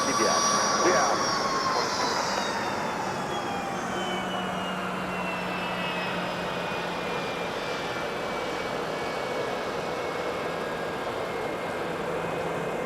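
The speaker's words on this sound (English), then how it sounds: "Listen to those BMW Rolls engines on the 717." Jet engines of a Boeing 717, BMW Rolls-Royce powered, at MSP airport in winter, a steady loud roar with whining tones sliding downward as the aircraft passes, continuous throughout with faint voices under it.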